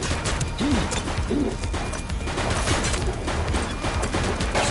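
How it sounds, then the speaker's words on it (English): Video game gunfire rattles in dense, rapid bursts of cracks and bangs, loud and continuous throughout, with no talk over it. "Shots fired! Shots fired!"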